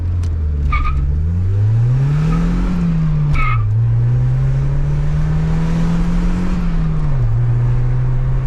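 A 1988 Volvo 740 turbo with an intercooler and a five-speed manual launches hard in first gear, its engine droning loud and close as it climbs under boost. The tires chirp briefly as the revs rise and fall through the gear.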